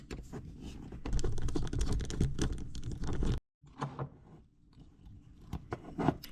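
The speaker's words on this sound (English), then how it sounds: "First, remove these 4 screws here." Small screws are backed out of a Mikuni accelerator pump on a Sea-Doo carburetor, with close, dry clicking and scraping from a screwdriver and handling, a brief pause, then quieter taps and rustles.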